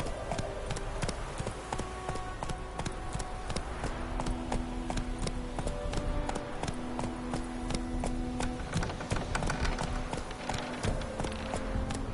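Roach the horse trots in a PS4 video game, with a steady, rapid clip-clop of hooves that runs close and clear the whole time over faint background tones.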